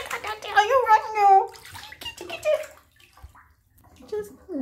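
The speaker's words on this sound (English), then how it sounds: "Rolling around in the tub." Water sloshes and splashes in a filled bathtub as something rolls around in it, with a high voice chattering over the first half and quieter splashing after.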